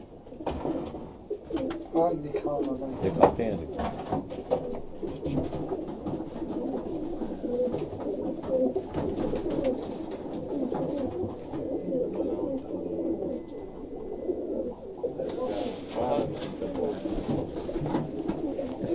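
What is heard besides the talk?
Sialkot Buttera breed pigeons cooing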